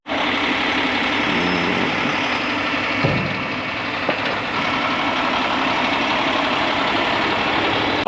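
A dump trailer's large multi-stage hydraulic cylinder lowers while a truck engine idles loudly nearby, a constant heavy rumble and whine with a couple of faint clunks.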